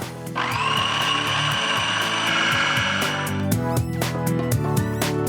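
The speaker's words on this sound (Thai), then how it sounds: "เราจะปั่นให้เนยเย็นกับแป้งเข้ากัน" A blender mixing cold butter and flour whirs at high speed for a few seconds, then slows and stops, followed by uneven rattling and mechanical knocking.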